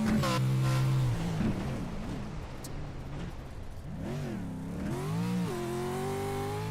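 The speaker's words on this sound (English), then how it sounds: "Suddenly it gets some growl into it." A Pro4 off-road race truck at Crandon growls loudly through repeated revving swells, its engine pitch dropping and climbing in rough sweeps as it powers along, heard alone without any talk.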